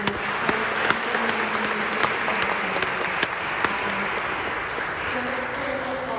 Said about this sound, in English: And so we applaud her for her leadership tonight.